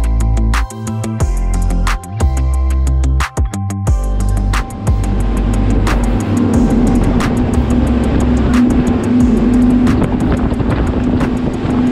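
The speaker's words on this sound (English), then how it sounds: "we decided to open up throttles and clear out the exhaust system" Boat engines opened up at full throttle, running at around 55 mph on the water, a loud, steady roar that holds throughout with some wind buffeting at the start.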